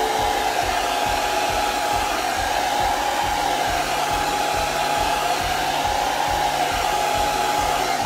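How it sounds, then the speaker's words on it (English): A hair dryer blows steadily and loudly close by as it dries chalk paste on a craft project, a continuous whooshing roar with a faint rhythmic low pulsing underneath and no talking. "I don't want to blow dry it when it's too hot"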